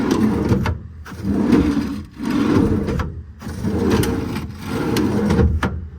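Dual lock drawers in a compartment of a 2024 Ram 5500 service truck slide open and shut repeatedly, a loud rolling rumble with brief clacks and pauses between each pass.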